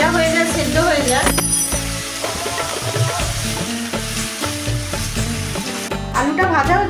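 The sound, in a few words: potatoes frying in oil with salt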